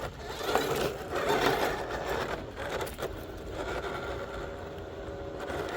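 Motor of an RC Pajero crawler running at full throttle with a throttle dual-rate setting, a steady buzzing, whirring drone that stays close and fairly level throughout, with no talk over it.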